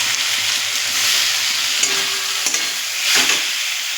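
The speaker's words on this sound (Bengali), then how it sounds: "তো আমরা আরেকটু নাড়িয়ে চাড়িয়ে নেব" Masala for rui fish curry fries and sticks in the pan while being stirred, a continuous loud sizzle with occasional scraping strokes and a brief swell of spatula movement near the end.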